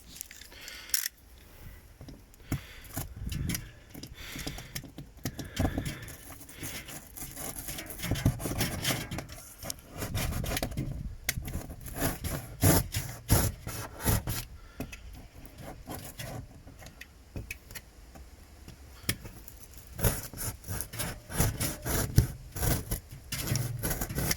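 Scissors cutting small circles out of cardboard for a homemade sandblasting cabinet, a quiet, close, continuous run of snipping and rasping cuts with no talk.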